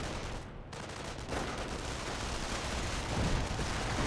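Mortar and artillery fire in Company of Heroes: dense, rumbling barrages and booms that swell louder toward the end, heard without talk.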